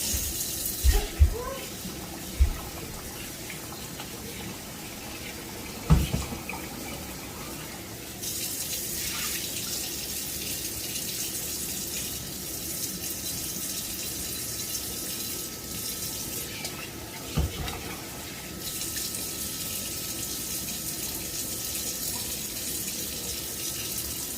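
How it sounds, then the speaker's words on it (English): Tap water runs steadily for a long stretch as Grace parboiled rice is washed in a kitchen sink, with a few knocks and clunks near the start and partway through. "I like to use Grace parboiled rice. You could use whichever rice you're comfortable using. Okay, so I just want to wash this."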